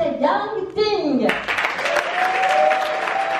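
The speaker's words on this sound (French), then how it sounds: "Je vous demande d'applaudir Monsieur Johan Yangting." A conference audience breaks into lively applause after a short burst of music or tones, the clapping rising abruptly and continuing densely, with a sustained tone running beneath.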